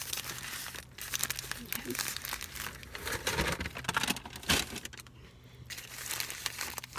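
Close, crisp crinkling and rustling of an Impossible Whopper burger wrapper being handled, in irregular bursts with a brief soft spoken word over it.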